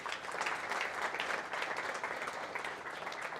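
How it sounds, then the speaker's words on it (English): Audience applause at a symposium, a steady wash of clapping from a crowd that holds at an even level throughout, somewhat distant. "Round of applause for those officers"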